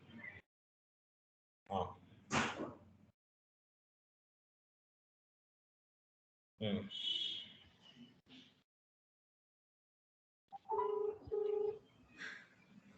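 Telephone call tones in an office setting, several short bursts of electronic beeps and tones separated by long silences, fairly faint.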